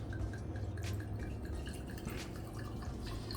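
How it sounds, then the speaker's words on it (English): Griffin Meadery Blood Axe mead is poured into a glass at close range, a steady liquid trickle with bright dripping splashes that continues without a break and without talk. "So let's give her a little pour here."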